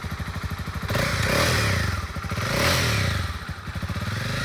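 A used 2019 Honda CB300R lightweight sport motorcycle engine idles with a steady close thrum, then revs up twice in loud, rising swells before settling back to idle.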